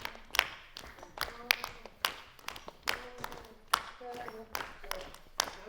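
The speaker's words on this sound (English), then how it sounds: "and you can clap along" Hands clapping in a slow, steady rhythm at a Kriolu music and dance panel, sharp distinct claps spaced about half a second apart, fairly quiet and close.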